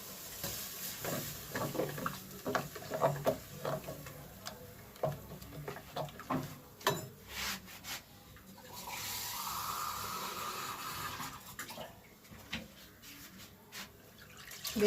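Clinks and handling noises come first, then water pours steadily from a small jar into a pot for a few seconds. The sound is fairly quiet and close.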